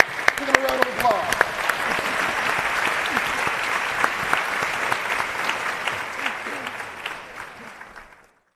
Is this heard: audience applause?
yes